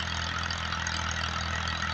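A diesel tractor engine runs at steady idle, a continuous low, even drone close by with a constant rumble and no speech over it.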